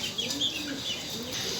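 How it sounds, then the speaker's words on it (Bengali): Chickens cluck softly while being fed, with short, faint bird calls over a quiet background, heard close for under two seconds. "আম্মা মুরগির খাবার দিয়ে গেল"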